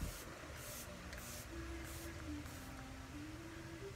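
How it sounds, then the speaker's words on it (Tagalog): A face mist spray bottle of beauty mist gives about five short hissing puffs in a row, evenly spaced and fairly quiet, over a low hum of background noise. "ginawa na natin yung pag-spray"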